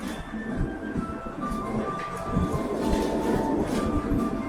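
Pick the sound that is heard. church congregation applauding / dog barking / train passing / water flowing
train passing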